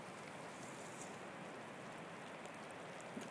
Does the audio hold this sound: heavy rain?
yes